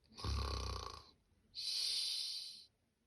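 A voice imitates snoring: two drawn-out, rasping snores, the first with a rumbling low tone, the second breathier and airier, with a short pause between them.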